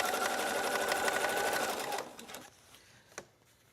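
A sewing machine top stitching a trench coat, running in a fast steady whir for about two seconds before stopping, followed by a few faint clicks and taps.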